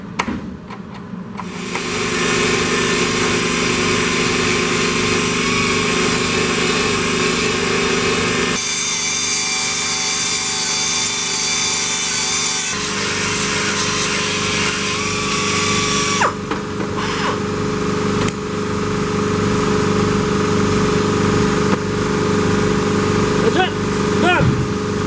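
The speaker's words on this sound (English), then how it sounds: "all we gotta do now is grind it down, make it look pretty." Angle grinder grinding down metal on a 1957 Ford Fairlane Skyliner hardtop convertible, a loud continuous harsh whine running throughout with shifts in pitch and texture as the load changes.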